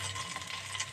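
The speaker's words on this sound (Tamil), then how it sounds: "அதுக்கப்புறம் வெட்டி வச்சு தக்காளி போட்டு வதக்கணும்" Curry leaves and chopped tomato sauté in a small pan, giving a steady, soft sizzle with a faint stirring rustle, close by but quiet, with no voices.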